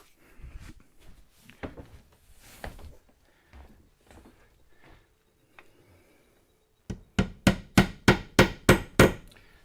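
Scattered knocks and handling noises give way to a run of eight sharp, evenly spaced hammer blows on nails, loud and close, during installation of LED light panels.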